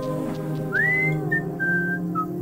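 A person whistling in a video game, a clear rising whistle that holds a few steady notes over a steady background drone.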